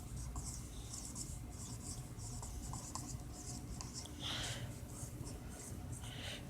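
Pen or pencil scratches across paper, close and steady, as a sentence is written out by hand in a math lesson on elapsed time, with small rhythmic strokes and faint breathing.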